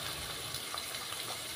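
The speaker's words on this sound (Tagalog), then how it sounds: "Tubig! Galing sa gripo." Tap water gushing steadily into a cooking pot for sinigang broth, a faint continuous hissing pour with no voices.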